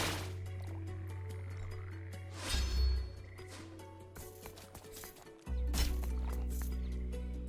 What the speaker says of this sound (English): Let's spawn 4 Toads.